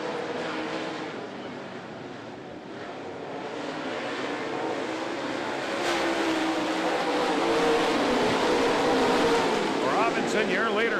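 Super late model race cars at Florence Speedway roar at speed under a green flag, a sustained engine drone that swells louder toward the end beneath an announcer's commentary.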